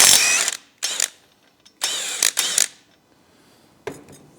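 A ratchet with a 16mm socket works on the stock Euro-5 header exhaust of a 2024 Triumph motorcycle, giving four short bursts of rapid clicking, close and fairly loud, with quiet gaps between them.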